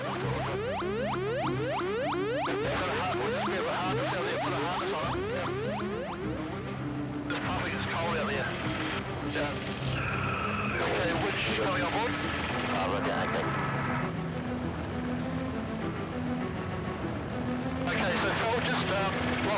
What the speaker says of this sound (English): The helicopter rotor wash could blast David off the rock